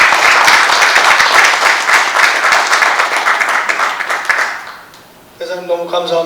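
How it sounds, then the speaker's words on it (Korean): Audience applause for a retired ambassador, Lee In-ho, after her talk: dense sustained clapping from a crowd for about five seconds, fading out, then a voice begins speaking. "이인호 대사님께 큰 박수를 보내주십시오"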